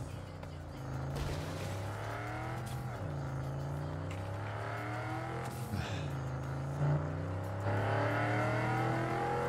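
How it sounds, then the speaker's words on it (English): Engine of a car in Cyberpunk 2077 revving as it drives, heard from inside the car, with rising and falling pitch sweeps as it accelerates and shifts, steady and fairly loud throughout with no talk. "This car is so much louder on the inside."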